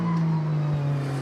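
A GT race car at Donington Park, heard as a close, steady engine drone as it slows under braking for the left-hand hairpin at Goddard's.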